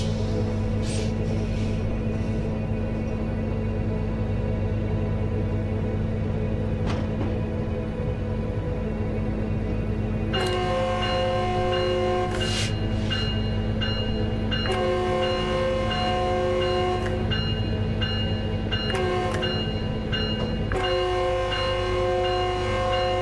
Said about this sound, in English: I'm leaving the bell on because we've got a pedestrian crossing here